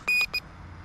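A radio-control transmitter for an Eachine Mini F4U EPP Corsair model plane gives two short electronic beeps, the first noticeably longer, marking the trim center, clear and close against quiet background.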